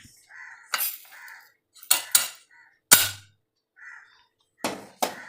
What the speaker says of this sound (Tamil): இப்போ வந்து பிளேட்டுக்கு மாற்றிக்கலாம்.